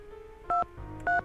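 Two short dual-tone keypad beeps from a telephone being dialed in the video game Message in a Haunted Mansion, each clean and steady, separated by a brief gap over a low background hum.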